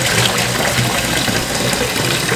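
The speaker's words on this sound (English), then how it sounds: "She's gonna fill the inside with water and allow it to run through and through." Water runs steadily through an emptied 2-liter soda bottle used as a funnel, a continuous close splashing gush with no talk.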